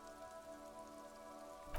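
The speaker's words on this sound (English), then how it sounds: "This rain will not let up anytime soon." Steady rain falls in the video game Disco Elysium, a soft, even hiss of drops on surfaces, with no voices and a brief louder swell at the very end.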